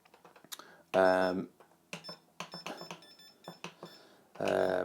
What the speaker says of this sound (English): that's an alarm for the battery on here